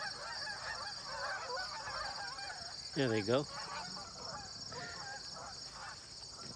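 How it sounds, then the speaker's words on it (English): A single goose honks briefly, a quick run of calls standing out over steady wind-like noise and a faint voice. "The geese have started to come back today."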